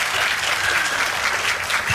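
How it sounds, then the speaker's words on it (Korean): Dense, steady applause from a cinema audience at a Korean film Q&A screening at COEX Megabox, a loud, continuous wash of clapping with no break. "박수 한 번만 주십시오"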